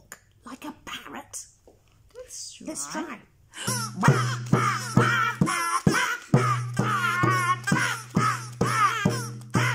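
A child imitates a parrot's squawk in a jungle-themed children's song, with repeated short, harsh vocal bursts over a steady musical backing, preceded by quieter sung and spoken voices.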